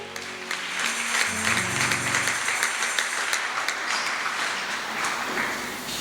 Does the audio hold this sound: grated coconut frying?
no